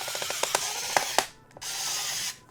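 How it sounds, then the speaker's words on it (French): Electric screwdriver with its torque setting turned down backs screws out of a Nintendo 64 joystick, giving close, dry ratcheting clicks in short bursts, then a brief pause and a steadier whirring run. "Je vais baisser la torque, je pense, sur mon tournevis."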